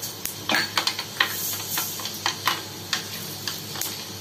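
Fenugreek seeds dropped into hot oil for a ginger, garlic and mango pickle give off scattered sharp crackles and pops over a soft hiss, irregular and close by.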